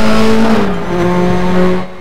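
Race car engine in the RaceRoom sim racing game at the Nürburgring, a loud steady whine that drops in pitch as the car shifts near the Coca-Cola corner, then holds and climbs again before easing off at the end.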